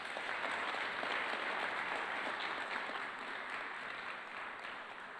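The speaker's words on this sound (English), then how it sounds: "Let's give him a round of applause." An audience at a talk on Nixon at the Nixon Library breaks into sustained applause, a dense even wash of many hands clapping that holds steady and then eases slightly toward the end.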